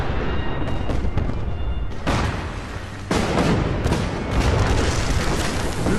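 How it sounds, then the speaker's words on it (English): Fireworks, cryo bombs and plasma bombs going off in a Fallout 4 settlement mod: several loud, close booms and bursts follow one another, each with a crackling, hissing tail, with no talk. "It's blowing up fireworks. Going off. Cryo bombs."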